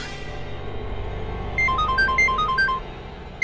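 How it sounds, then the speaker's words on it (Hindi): Phone ringtone with a short repeating electronic melody of bright tones, loud and close, starting partway through after a low hum and cutting off near the end. "बुल्टू को फोन लगा दो।"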